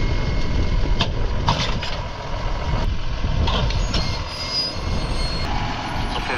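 A skeleton bucket on heavy machinery pries at a roughly 2,000-pound rock in a field soil, giving a steady loud engine rumble with scraping clanks and a few sharp metallic knocks throughout.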